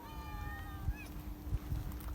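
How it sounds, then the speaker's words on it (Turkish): Street cats in a hillside neighbourhood, one clear drawn-out meow followed by a short second cry, close by over a low outdoor hum and scattered bumps. "Başka kediler de çıkıyor sağdan soldan bunları görünce"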